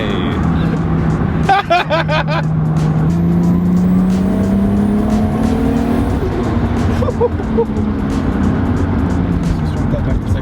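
Nissan Skyline R32 GTR pulling hard, its engine note climbing steadily through the revs from inside the car with a quick burst of fluttering mechanical chatter early on, loud and close, with excited voices in the cabin.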